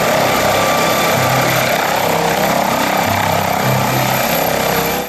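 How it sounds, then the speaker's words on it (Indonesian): A toy military helicopter's spinning propeller gives a steady, close, loud whirring drone with a rough buzzing edge, holding unbroken for about five seconds before cutting off. "ada helikopter Bapak TNI"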